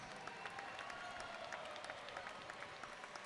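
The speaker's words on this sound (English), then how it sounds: "how about a big round of applause for both of the fighters in this cage" A crowd at an MMA cage event applauds the fighters, with faint, distant clapping spread evenly across a few seconds.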